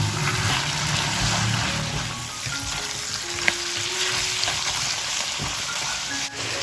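Cabbage stir-frying in a wok with soy sauce, oyster sauce, salt and a little sugar, giving a steady close sizzle with scraping spatula strokes throughout.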